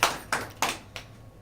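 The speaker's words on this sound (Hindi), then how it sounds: "ताली बजाए नील के लिए" Children clap during a Bible lesson, giving four sharp, separate claps that fade slightly, close by in a quiet room.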